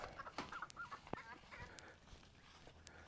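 Farm chickens cluck at morning feeding time, a scatter of short, nearby clucks and calls with a few sharper peeps over soft barnyard background.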